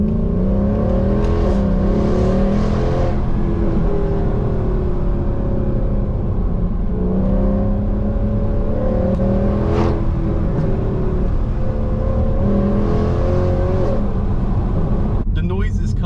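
A Mercedes C63 AMG's engine while driving, a loud, close, gravelly drone whose pitch swells and falls as it revs repeatedly throughout.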